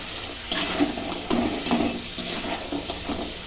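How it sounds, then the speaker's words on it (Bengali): Small whole crabs frying in oil with salt and turmeric, tossed in a pan: a steady close sizzle with scraping stir strokes and occasional louder clatters, no voices. "কাঁকড়াটা তো আমি প্রথমে তেল দিয়েছি, তার মধ্যে কাঁকড়াগুলো ছেড়ে দিয়েছি নুন আর হলুদ দিয়ে একটু থাপলে নিচ্ছি।"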